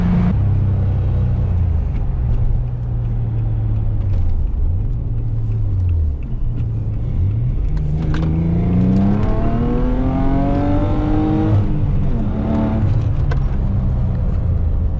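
A tuned Audi S4 engine, modified to RS4 spec with about 450 horsepower, rumbles at idle, then revs up in rising, loud surges with a throaty roar, settling and climbing again near the end.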